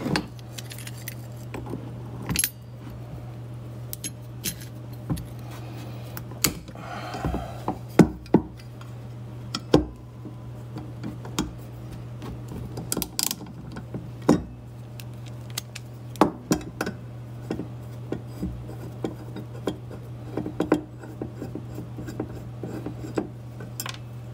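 Metal clinks and rattles while an anchor nut is worked off a small metal bracket from patio furniture in a workshop: irregular sharp taps and jangles over a constant low hum, close by, with no talking.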